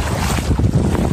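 Boat ride out to Suguicay Island, with heavy wind buffeting the microphone over a low engine rumble and the wash of surrounding sea, loud and continuous.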